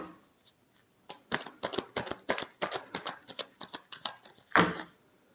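Tarot cards are shuffled by hand in a quick run of crisp riffling slaps and flicks, close and fairly quiet, ending with a final sharp snap.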